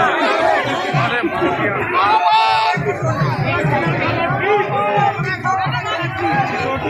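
Dense crowd chatter surrounding a candidate at a Lok Sabha nomination filing in West Delhi, many overlapping voices close by in a steady loud hubbub.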